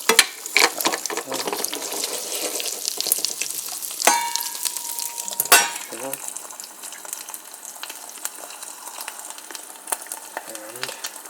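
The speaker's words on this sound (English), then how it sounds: "One more egg is cooking, which is the last egg." An egg fries in a pan for an egg and mustard pita wrap, giving a steady crackling sizzle throughout with a few sharper clatters and brief tonal clinks midway, no talk over it.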